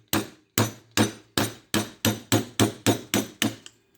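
A screwdriver struck on its top to knock wedges out of a microwave oven transformer: about ten sharp, evenly spaced metallic hammer blows, close and loud, each ringing briefly before the next.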